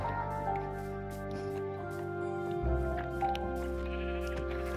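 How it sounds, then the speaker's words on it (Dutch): Sheep bleats from a Minecraft-style video game, a couple of short nasal calls standing clear over steady game music and background ambience. "Pak dat schaap!"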